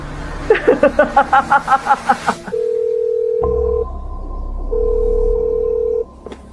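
A steady electronic telephone tone sounds in two long stretches with a gap between, preceded by a quick series of rhythmic dial-like beeps; no one answers.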